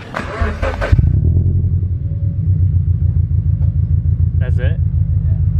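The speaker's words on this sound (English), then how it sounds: "Even like when you rev it, it's like hella quiet." A slammed Scion FR-S exhaust settles into a steady, low, pulsing rumble at close range after a brief spoken question, with a faint voice briefly heard later.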